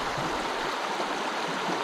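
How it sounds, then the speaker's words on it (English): The East Branch of the Deerfield River flows through the Somerset Wilderness in May, a loud, close and constant rushing of water that fills the whole moment. "It's a beautiful stretch of river here."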